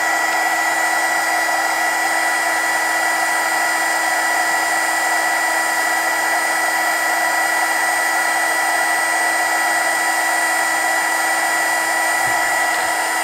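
A TACKLIFE HGP35AC mini heat gun blows hot air onto a wire, giving a steady, loud, close fan-and-air whine with a constant tone and no pauses, running alone throughout.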